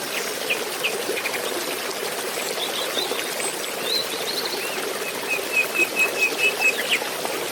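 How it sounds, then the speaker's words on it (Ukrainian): A river's flowing water makes a continuous broad rushing hiss, steady and moderately loud, while small birds chirp faintly above it, with a brief run of quick chirps near the end. "Вірно, так шумить річка."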